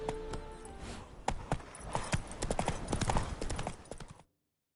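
Hooves of a horse trotting in the video game The Witcher 3, a steady clip-clop rhythm of close, crisp strikes over ambient game sound, with a brief snort or whinny mixed in; no talk.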